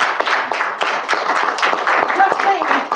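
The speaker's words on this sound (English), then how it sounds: "I think you deserve a round of applause." Clapping for a departing student senate president fills a meeting room, a dense patter of many hands at close to middle distance with some overlapping talk.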